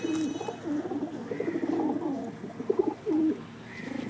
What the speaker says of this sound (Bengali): সব আন্ধ্রা পায়রা।